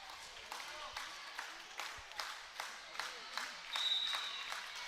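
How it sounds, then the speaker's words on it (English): Broken Bow volleyball fans clap in a gym during a match, a rhythmic run of about ten claps at a steady beat, moderately loud crowd applause that swells slightly near the end. "Broken Bow fans starting to clap their hands as Broken Bow serves for the second set"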